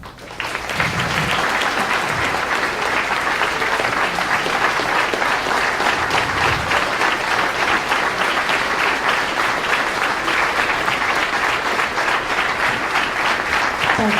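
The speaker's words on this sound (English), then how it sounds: "please help me give him a Coastal Alabama round of applause" Dense, steady applause from a large audience fills the room at a Coastal Alabama Chamber gathering in Gulf Shores, starting abruptly and holding loud and unbroken for about thirteen seconds.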